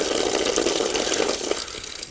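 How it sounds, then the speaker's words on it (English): Water streams from a newly installed outdoor hose bib, a steady hissing gush that keeps going for about two seconds and then eases slightly, with no talk over it. "Water at the hose."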